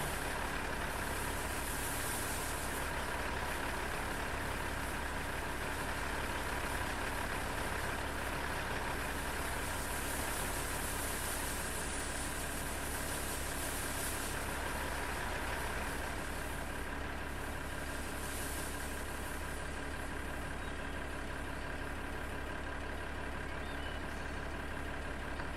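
A tractor engine idles steadily in a farming video game during a soybean harvest, a low, constant hum with a faint high whine, running alone and unbroken throughout.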